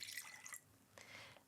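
Milk splashed from a container onto cracked eggs in a kitchen bowl while making French toast fingers; a brief soft liquid pour and drip, faint and quick, with a second small trickle following.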